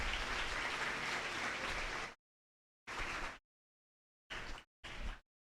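A retiring teacher's farewell ceremony with a hall audience clapping, a fairly quiet, steady round of applause for about two seconds, then several short bursts separated by dead silence.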